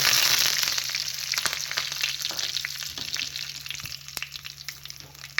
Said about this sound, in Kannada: ಈಗ ಒಗ್ಗರಣೆ ಹಾಕಾಗಿದೆ ಈ ಚಟ್ನಿ.